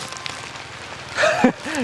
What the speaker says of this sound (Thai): แต่ว่าปรากฏว่าฝนตกพี่น้อง